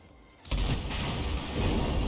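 Warship main guns firing in World of Warships Blitz: a sudden heavy boom breaks a quiet lead-in and rolls into a sustained, loud, rumbling barrage that fills the rest of the moment.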